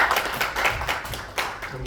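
A church congregation applauding after a prayer, a dense wash of many hands clapping at once, steady and fairly loud, with a brief swell near the end.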